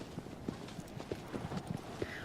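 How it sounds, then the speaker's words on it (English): Horse hooves clip-clopping at a steady stride in Shadow of the Colossus, a rhythmic series of soft thuds over a constant background rush, moderately close. "Horse riding is a funny one in games."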